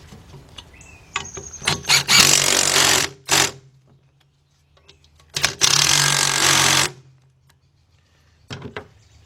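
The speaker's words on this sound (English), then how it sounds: "Now, let me tighten these bolts up." Two loud, sustained power-tool whirs, each with short mechanical clicks around it, as bolts are tightened on the rear brake assembly of a 1993 Ford F700 with Lucas Girling brakes, with quiet gaps between.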